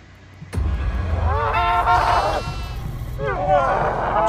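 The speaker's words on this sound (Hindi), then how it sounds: "बकरी मिल गई मेरे को।" A goat in a Hindi-language multiplayer video game set on a farmhouse map gives several loud, wavering bleats close by, with a constant low game rumble underneath.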